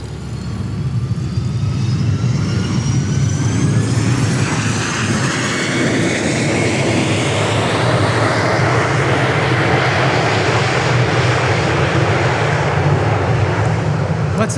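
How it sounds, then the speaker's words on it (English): A Gulfstream business jet on arrival at Dallas Love Field produces a loud, sustained roar with a rising whine as it passes close by. The noise holds steady for the whole stretch, and no voices are heard. "Here comes our next arrival. Looks like another Gulfstream."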